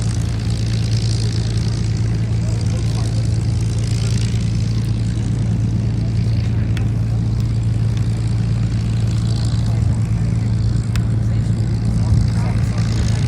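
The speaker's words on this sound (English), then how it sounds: "as the Spitfire 1A comes into land" A Spitfire 1A propeller aircraft comes in to land at an airshow, its engine a steady, broad drone with a strong low hum that stays constant and fairly loud throughout, with crowd and wind noise behind it.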